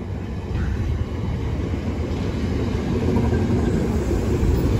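Class 455 electric train rolling through Clapham Junction, a steady broadband rumble of wheels and carriages sustained throughout, fairly close and unbroken, with no voices.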